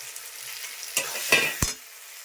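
Ground spice pastes of ginger, onion, garlic and chilli with cumin powder, frying in a pan: a faint soft sizzle broken by a few close scraping strokes of stirring.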